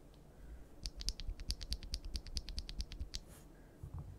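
Clicky keystrokes on lubed Bolsa Supply Techno Violet linear keyboard switches, a steady run of about twenty close, crisp presses at an even typing rhythm, with quiet gaps at start and end.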